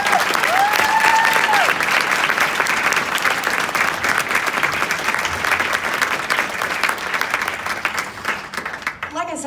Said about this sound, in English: So can we please applaud all of our vendors and Camilla.